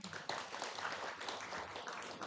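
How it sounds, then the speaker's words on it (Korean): Audience at a weekend family Buddhist dharma service clapping together, a dense, steady patter of many hands filling the room with no pause. "이런 때 박수 한번 치시는 거예요"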